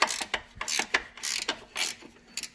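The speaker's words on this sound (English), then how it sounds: "if they all come off as easy as that one" A ratchet works a bolt loose on an S10 Blazer, sounding as a run of quick, close clicking bursts in short irregular strokes, with no talking.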